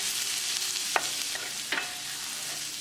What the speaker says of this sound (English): add garlic. Keep it moving and keep cooking.